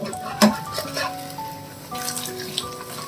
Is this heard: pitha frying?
yes